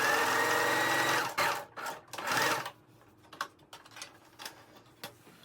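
A sewing machine stitches the front lining pieces of a cropped puffer jacket in two close, brisk bursts, followed by faint ticks and rustling of fabric.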